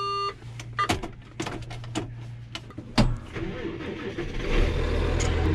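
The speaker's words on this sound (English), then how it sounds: "So let's start this thing up and start getting stuff started up." A farm tractor's engine cranks and catches after a series of electronic beeps and clicks, then settles into a rising, steady running rumble close by.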